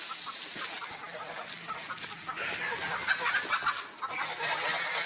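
Free-range village hens and a rooster cluck in soft, irregular bursts around a farmyard gate, a steady outdoor hiss underneath and a few sharper calls near the middle.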